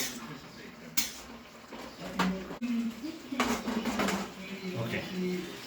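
Gajar ko halwa being stirred in a pan: scraping and clinking of a utensil against the metal with occasional sharper knocks, close and moderately loud, with a voice talking over parts of it.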